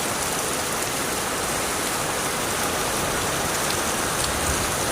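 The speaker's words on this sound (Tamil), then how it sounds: "சரியான மழை பெஞ்சிட்ருக்கு. யாரும் வெளியாக முடியல, அந்தளவுக்கு மழை பெய்யுது." Heavy rain pours down outdoors after falling since morning, a dense, loud and steady hiss of drops hitting surfaces with no break, filling the whole stretch.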